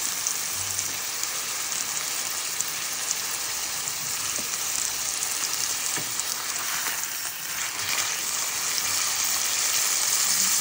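Steak frying in butter and garlic in a pan gives off a loud, dense, continuous sizzle that stays close and steady throughout, with no voices.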